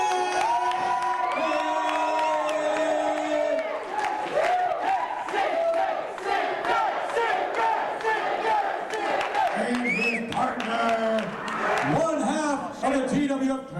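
A wrestling crowd at a TWF tag team event cheers, whoops and shouts loudly and continuously. An announcer's voice carries over the noise, which swells in bursts.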